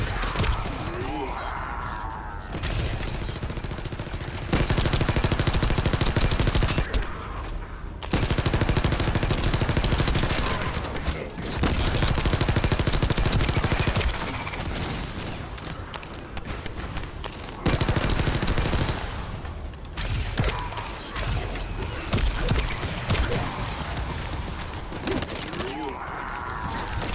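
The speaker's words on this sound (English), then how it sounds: "These laser weapons are my favorite." Laser weapons firing in the sci-fi shooter The First Descendant, sustained bursts of rapid, buzzing shots with brief pauses between volleys, loud and up close, with occasional voices mixed in.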